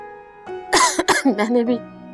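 A person coughs a few times, close and fairly loud, followed by a short strained vocal sound.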